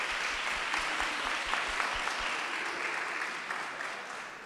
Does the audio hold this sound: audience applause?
yes